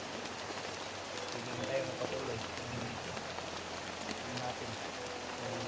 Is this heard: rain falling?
yes